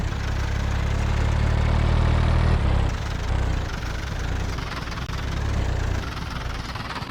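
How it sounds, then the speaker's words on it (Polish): A tractor engine idles in a farming video game, a loud low rumble with a steady throb that drops slightly partway through and keeps running. "parkuję traktor i szykuję czternastkę z prasą"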